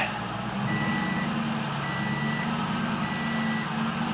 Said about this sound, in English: Let's back her up just a hair.